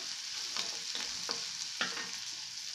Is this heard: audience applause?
no